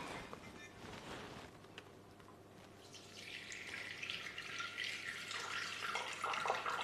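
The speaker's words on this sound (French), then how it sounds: "on va mettre 150 g d'eau dans le bol du Thermomix." Water poured into a Thermomix bowl, a steady trickling splash that builds to a bright, continuous stream in a quiet kitchen.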